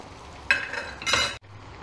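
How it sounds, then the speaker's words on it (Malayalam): Coated bread slice dropped into hot sunflower oil for a fried sandwich, a bright crackling sizzle bursting up twice before cutting off abruptly, close and without talk. "അതിലേക്ക് നമ്മൾ ഈ കോട്ട് ചെയ്ത് വെച്ച ബ്രെഡ് സ്ലൈസ് ഇട്ട് കൊടുക്കാം."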